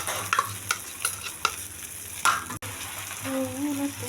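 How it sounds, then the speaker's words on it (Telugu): Egg mixture poured into hot oil in a pan for bread omelette sizzles steadily, with repeated spatula taps and scrapes before a continuous frying hiss. "ప్యాన్లో ఆయిల్ వేసుకొని ఎగ్ మిక్సర్ ఇందాక కలుపుకున్నది ఉంది కదా, దాన్ని వేసి"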